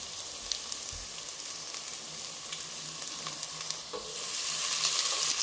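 Onion and garlic frying for a bone soup: a steady, close sizzle with occasional stirring clicks, the hiss swelling louder toward the end, no voices.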